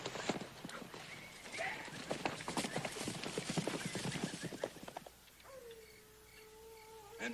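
Several horses' hooves clip-clop in an irregular, overlapping rhythm on open ground in a Western camp setting, fairly close. The hoofbeats stop and a faint whinny follows, with birds and insects in the background.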